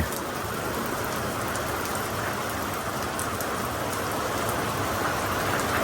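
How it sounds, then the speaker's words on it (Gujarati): Steady rain pouring outdoors, a dense, even hiss of drops hitting surfaces close by that holds constant with no talk over it. "વરસાદની મોજ."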